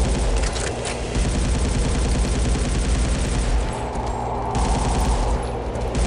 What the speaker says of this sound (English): Fire a rocket.